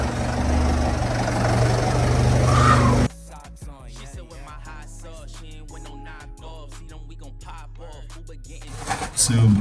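Opel Vivaro 2.0 diesel passenger van engine settling into a steady, low idle close by, after a noisy stretch of wind or road rumble cuts off abruptly; a voice speaks briefly near the end.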